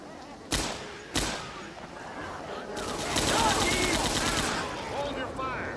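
Gunfire in Left 4 Dead 2: two sharp, loud shots ring out early, followed by a denser burst of rapid automatic fire, with a voice talking over the game audio.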